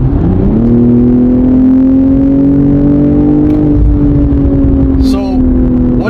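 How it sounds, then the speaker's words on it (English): A car engine surges on a full-throttle kickdown as the left paddle forces a downshift into sport mode, a loud, close, rising drone that holds steady for several seconds with a brief chirp near the end. "If I kick down the pedal all the way to the floor and I hold the left downshift"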